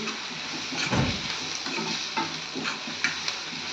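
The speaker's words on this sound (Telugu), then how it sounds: "ఇందులోకి పసుపు వేసి ఫ్రై చేసుకోవాలి. పసుపు పచ్చివాసన పోయేంత వరకు ఫ్రై చేసుకోవాలి" Turmeric and onions frying in a pan for a drumstick egg curry, a steady close sizzle with stirring scrapes throughout, no talking.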